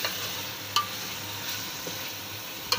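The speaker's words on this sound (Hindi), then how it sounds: "देखें, ये देखें गोश्त भुन रहा है।" Mutton and arvi frying in a pot, a steady, close sizzle with a few sharp clicks of a stirring spoon against the pot.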